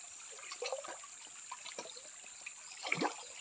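A small river stream flows with a faint, steady trickle and light splashes, with a slightly louder splash near the end and no talk.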